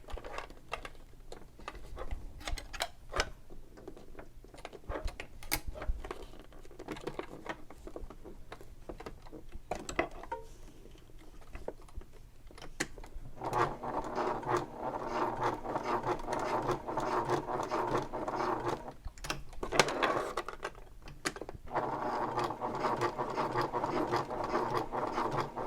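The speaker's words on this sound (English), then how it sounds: "I'm going to sew a little box on this side." A sewing machine stitches a box pattern on a messenger bag near a swivel hook, with rapid, rhythmic mechanical patter in short bursts that grows denser and louder in the later runs, with brief pauses between passes.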